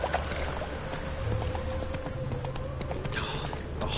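Roach the horse's hooves clip-clop at a steady trot in The Witcher 3, an even rhythm of soft thuds against a continuous low rumble of ambient noise.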